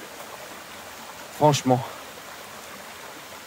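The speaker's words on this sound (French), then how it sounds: "Une cascade." A waterfall in a forest in the Basque Country gives a steady, even rush of water throughout. A person speaks briefly over it partway through.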